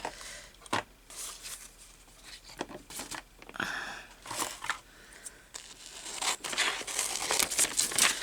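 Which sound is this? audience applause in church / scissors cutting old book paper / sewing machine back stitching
scissors cutting old book paper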